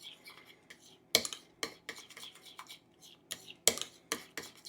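A spoon mixes mayonnaise in a bowl for ham, Gouda and pear tea sandwiches, making a run of light clinks and scrapes against the bowl in an uneven rhythm, close but quiet.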